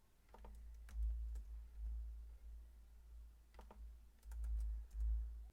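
Keys clatter on a computer keyboard while a formula is entered in an Excel spreadsheet, with two bursts of quick close-up typing separated by a short pause.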